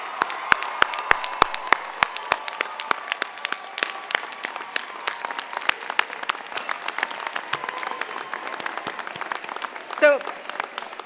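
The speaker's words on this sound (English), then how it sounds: "please join me in a big round of applause for our graduates" A large commencement crowd applauds graduates at a university graduation ceremony, dense sustained clapping with a few sharper claps, steady throughout with a brief louder swell near the end.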